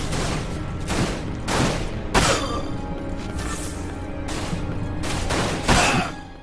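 Rapid pistol gunfire in the action game Dirge of Cerberus, sharp shots in quick bursts of several, close and loud over a steady game soundtrack.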